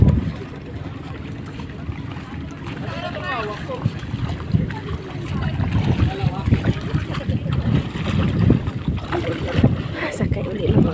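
A boat ride out on the open sea, with wind buffeting the microphone, splashing water and a low rumble of the boat, while people talk intermittently.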